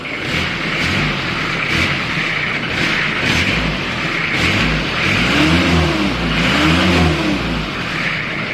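A single-cab Nissan pickup truck's engine revs repeatedly in loud, close bursts, surging up and falling back in a rough, throaty rhythm with no voices over it.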